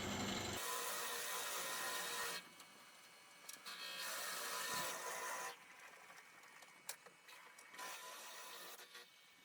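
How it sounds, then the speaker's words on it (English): A 25 mm Forstner bit bores deep into wood on a mill drill, cutting in several loud grinding bursts separated by quieter pauses as the bit is backed out and re-fed. "A 25 millimeter Forstner bit. This is going to go as deep as possible."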